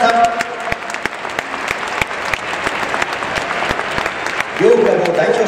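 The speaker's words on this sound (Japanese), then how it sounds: "両クラブを代表して世界と戦う選手たちに今一度大きな拍手をお願いいたします。" Steady applause from a crowd at a 2019 J1 League match between Kawasaki Frontale and Gamba Osaka fills the stadium, a dense wash of clapping under a public address voice, with a louder swell near the end.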